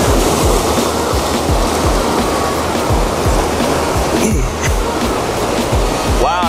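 Continuous broadband ocean surf wash on a Big Island, Hawaii shore at night, loud and steady close by with rhythmic low thumps of breaking waves throughout.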